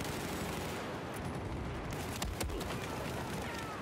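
Dense automatic rifle fire from Battlefield 4 on Xbox One crackles through a busy multiplayer firefight, a steady roar of shots with a sharper cluster of bursts midway, as a player comes under sniper fire.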